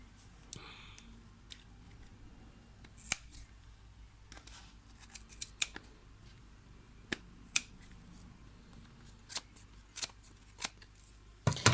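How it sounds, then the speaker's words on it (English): Large scissors snip through thick layers of yarn on a pom-pom, a handful of sharp, separate crunchy cuts spaced irregularly over quiet room tone. "just going to cut through the first couple of layers of yarn"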